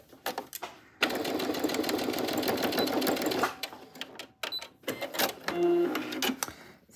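A sewing machine topstitching fabric near the zip of a wallet runs in rapid mechanical bursts: one long stretch of stitching, then shorter stop-start runs with clicks and small handling noises between them.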